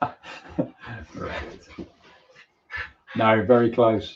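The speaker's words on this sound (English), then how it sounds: "that's our dog you can hear in the background." A dog whimpers and yips in a home while people talk over a live football match between Germany and France.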